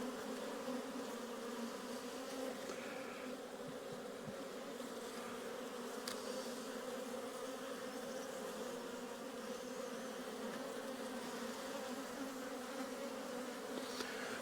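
Honey bees hum steadily around an open hive during a spring inspection, a faint, continuous drone with no break and no voices.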